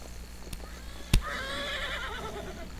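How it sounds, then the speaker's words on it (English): A horse in the Roblox Wild West game gives a clear neighing whinny, starting with a sharp thump and then trailing off over about a second and a half against a steady game background. "no, no, no, no, no, horsey"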